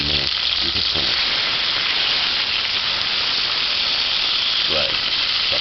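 Chicken pieces fry in hot oil with a steady, dense sizzle that stays loud throughout, while a voice speaks briefly at the start and again near the end.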